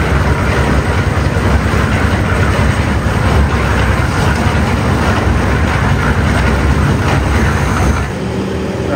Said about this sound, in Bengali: এই পাশটা হচ্ছে ঢালাই চলতেছে, এই পাশে অনেক আওয়াজ